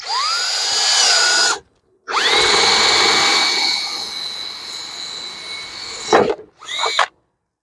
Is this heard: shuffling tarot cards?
no